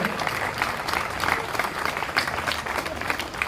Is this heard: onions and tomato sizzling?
no